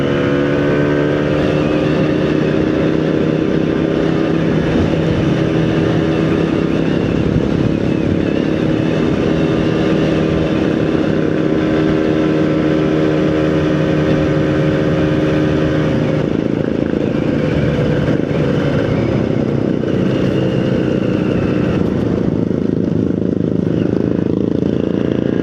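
A motorcycle engine drones steadily and loudly throughout a ride in Indonesia's Ciletuh geopark near Puncak Aher, with wind rush and slight shifts in engine pitch, no speech.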